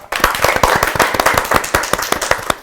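Audience clapping at a community talk show: sharp, close hand claps in a quick, uneven burst from a smallish group for a few seconds.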